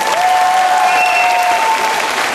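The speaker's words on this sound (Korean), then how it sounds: "미션 임파서블 박수 한번 쳐주세요" Audience at a Seongnam community club orchestra concert claps in a burst of dense, close applause lasting a couple of seconds, with a faint sustained tone ringing underneath.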